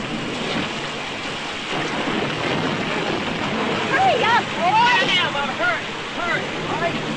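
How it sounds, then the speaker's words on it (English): Heavy rain and rumbling thunder of a storm over a swamp, a dense steady downpour with low rolling thunder and some higher swooping tones mid-way, loud and continuous. "You want to risk it on foot through this swamp in the middle of a storm?"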